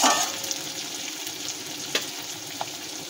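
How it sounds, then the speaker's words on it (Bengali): Onions with torn green chillies frying in a pan over high flame, a dense close sizzle that stays steady throughout, with a couple of faint stirring clicks. "দিয়ে ভালো করে পেঁয়াজটাকে ভেজে নেব"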